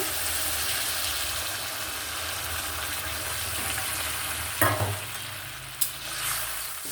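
Shrimp curry is stirred in a pan as water is poured in, giving a loud, continuous bubbling sizzle close up and a couple of sharp clatters of the spoon near the end, with no voices.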